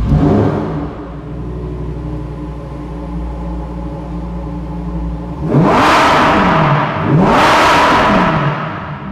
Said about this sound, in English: I want to give you guys a taste of how this new exhaust sounds.